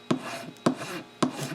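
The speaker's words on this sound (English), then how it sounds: "I keep rotating the direction I'm filing from" Three evenly spaced rasping strokes of a file across a block of hard wax, each starting with a sharp scrape and trailing off, close up with no voices.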